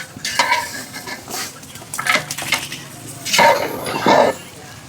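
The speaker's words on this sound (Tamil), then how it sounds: "போட்டு நல்லா மசாலாவில் பிறக்கி விடணுங்க" Beef is stirred into masala in a large cooking pot for a biryani, a series of loud scraping stir strokes over a frying sizzle, with a few louder bursts toward the end.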